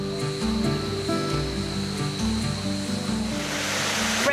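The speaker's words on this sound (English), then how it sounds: "This is Cedar Creek Falls." Cedar Creek Falls in Samford, a steady rush of falling water heard nearby, partly under a sustained music bed that fades out near the end.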